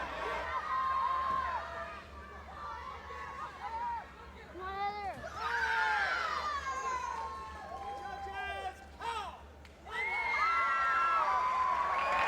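A crowd cheers and shouts with excited, high-pitched voices during a sudden-death martial arts tie-break at the 1997 Arnold Classic expo, the noise rising and falling in waves in a large hall.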